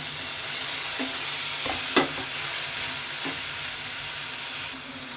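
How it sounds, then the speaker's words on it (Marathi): Onion, ginger-garlic and tomatoes fry in a pan under a steady, close sizzle, broken by a few soft scrapes and taps of a stirring utensil. "एकदा हलवून घेऊया आणि आपण आपले टोमॅटोही इथे घालून घेऊया"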